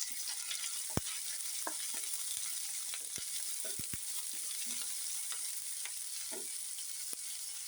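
Sliced onions and curry leaves sauté in a pan with a soft, continuous sizzle, broken by occasional sharp clicks of a spoon stirring against the metal.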